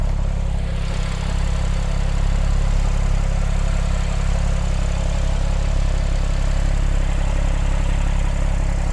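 Smooth, steady idle of a 2010 Porsche 911 Turbo's turbocharged 3.8-liter H6 engine, a close, even low hum and whirr holding constant throughout with no voices.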